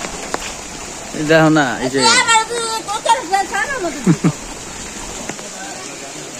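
Rain falling over a village, a steady broadband hiss running throughout while people talk nearby.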